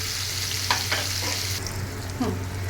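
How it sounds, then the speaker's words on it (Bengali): Paneer frying with salt in a pan makes a continuous close sizzle, broken by a few brief scrapes and clicks of stirring. "এগুলোকে আমি হালকা একটু ভেজে দেবো লবণ দিয়ে"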